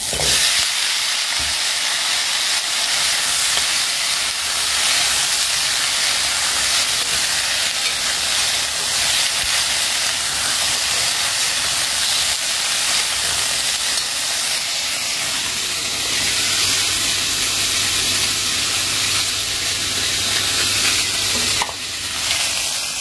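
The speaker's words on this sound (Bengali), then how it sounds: "একটু কালো জিরা ফোড়ন দিয়ে কচুটা দিয়ে দিলাম। এবারে কচুটা একটু ভালো করে ভেজে নিয়ে" Taro pieces fry in hot oil tempered with black cumin seeds, giving a loud, continuous close-up sizzle and hiss with occasional stirring scrapes throughout.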